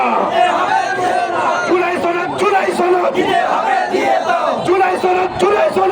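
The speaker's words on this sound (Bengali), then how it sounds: "আমার সাথে স্লোগান বলেন" A protest march crowd in Lakshmipur chants slogans in loud, close unison, rhythmic shouted phrases rising and falling over a dense mass of voices.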